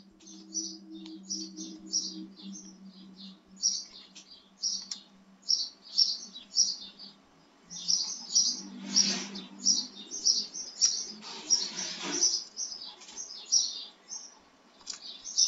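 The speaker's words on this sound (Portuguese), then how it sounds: "Que barulhinho esse passarinho?" A small bird at a nest in a house gives rapid, repeated high chirps and tweets in quick bursts, fairly close, over a low steady hum with no talk.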